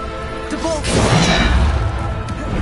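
Depulso force spell striking in Hogwarts Legacy: a dense, loud whooshing blast that swells into a sustained crashing impact, with a brief swish before it, all within a busy game soundscape.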